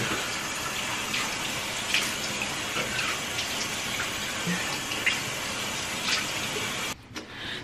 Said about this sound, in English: Rinse my face off.